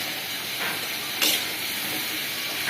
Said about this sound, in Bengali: ফ্রেঞ্চ ফ্রাই তো হইতেছে